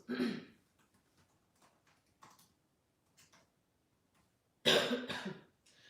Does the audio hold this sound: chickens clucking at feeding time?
no